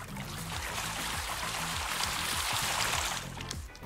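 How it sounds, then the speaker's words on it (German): Water pouring into a well in the survival game Raft, a steady gushing flow with low rhythmic mechanical tones underneath, fairly loud and continuous before easing off at the end. "Der Brunnen wird voll Wasser und was da drin ist, kommt hoch."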